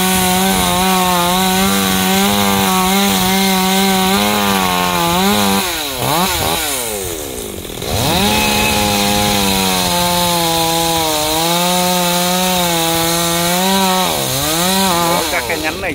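A chainsaw runs loud and close, droning steadily while cutting a branch of a large golden-flowered acacia tree, dipping and revving back up midway, with occasional voices under the engine.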